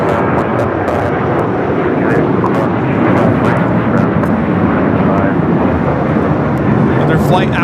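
United Boeing 737-900ER jet departing LAX, a loud continuous engine roar that swells and holds throughout, with faint clicks over it.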